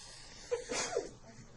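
A single quick sneeze in a classroom during an exam review, moderately loud and nearby against quiet room noise.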